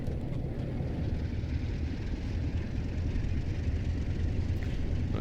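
Class 47 diesel locomotive in a train simulator on a limestone freight run, a steady, loud low engine drone rumbling continuously as the throttle is opened.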